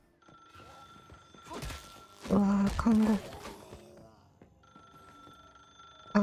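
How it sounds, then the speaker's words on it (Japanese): Telephone ringing inside a hospital in the video game Once Human: a couple of loud, tonal ring bursts mid-clip over ambient game sound, with a faint trailing ring near the end and a player's voice briefly exclaiming. "え、何何、電話が鳴ってますけど、え、何何、どこで鳴ってんだ"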